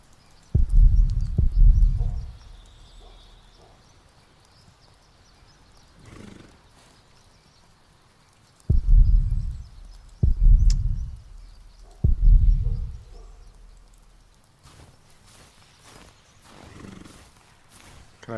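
A pony in a medieval adventure game snorts and whinnies in several loud, close bursts, with hoof clops between them and quiet stretches in between.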